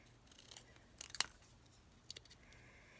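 Scissors snip through paper while cutting out a small Halloween cardmaking piece with fine tips, giving a few quiet, brief crisp cuts close by with no talking.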